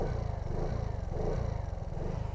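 A 2021 Vespa GTS Super 150 scooter idles close by, with a steady low engine rumble and a fast, even pulsing throb that holds constant throughout.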